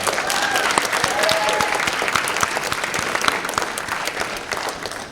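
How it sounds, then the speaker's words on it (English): Sustained, dense applause from an audience honoring alumni at a school wall of fame ceremony, steady and fairly loud for the whole stretch with a few scattered cheers. "Could you guys please have a round of applause for them?"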